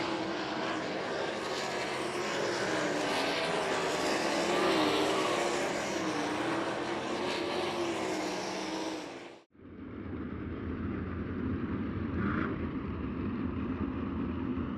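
Sprint cars in a heat race at a Sprint Invaders dirt oval roar continuously as they run through turns 3 and 4, a loud sustained engine drone that cuts off abruptly and resumes at a lower, more distant level.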